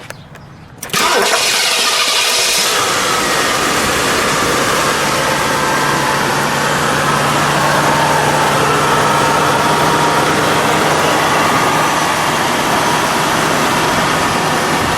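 A 1967 Ford Thunderbird engine cranks and fires up after about a second of quiet, then settles into a loud, steady idle that runs on without a break.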